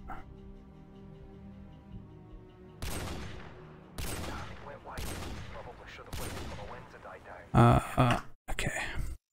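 Gunfire in Call of Duty 4: Modern Warfare, a few sharp separate shots with echoing tails following a quiet hum, then a louder rapid burst near the end, with faint talk underneath.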